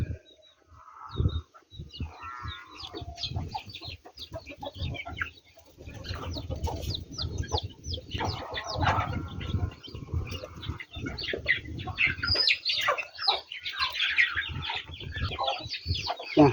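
Chickens clucking and calling at close range in a Thai rural household yard, an irregular run of short clucks and squawks that continues the whole time with light background noise.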